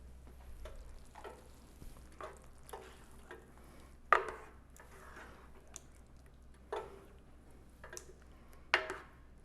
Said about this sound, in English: give that a stir through.